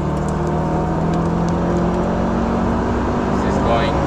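Lola chassis race car with a Chevy engine runs up the front straight at Laguna Seca, a steady close-up in-car engine drone with whirring tone that holds loud and even throughout.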